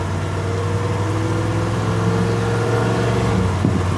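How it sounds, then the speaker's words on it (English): Carbureted car engine with a 650 CFM carb running rich, heard from inside while driving and easing onto the throttle, a steady close low drone that swells slightly with no talking. "Little quick drive here. Just feathering into the throttle."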